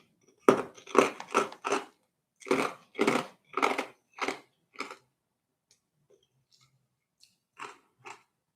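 Crunchy food chewed close to the mic in a burst of about ten loud, rhythmic crunches, a pause, then two more bites near the end.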